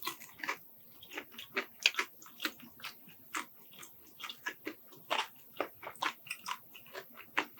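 Crispy garlic fried chicken being eaten, with irregular close crunchy bites and chewing sounds repeating throughout, fairly quiet with no talking.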